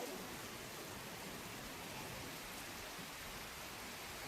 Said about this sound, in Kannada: ಹೆವಿ ಮಳೆ ಬರ್ತದೆ ಮಾತ್ರ